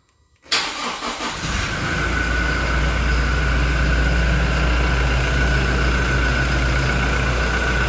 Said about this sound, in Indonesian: Kita hidupkan mesin ya.